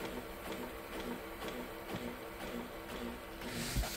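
A Sony SL-F1 Betamax VCR rewinds a tape with a steady whirring mechanical drone and faint irregular ticks, close up and unbroken, with no talking.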